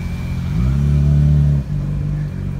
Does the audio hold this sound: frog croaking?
no